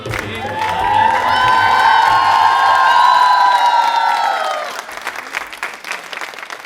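Loud, sustained audience applause with cheering and whoops after a stage performance, clapping steady for several seconds before thinning into scattered claps, a few voices calling out within it.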